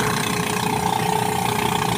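A rice thresher's engine runs steadily and loudly, with a constant droning hum and faint rattle, alone without talk.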